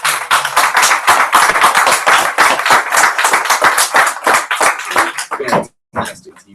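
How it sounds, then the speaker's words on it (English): Audience applause for a hardworking young campaign team at a Libertarian congressional candidate's event in Florida, dense sustained clapping that fills most of the clip before breaking off, then a few scattered claps trail at the end. "That's not rhetorical. Applaud these guys."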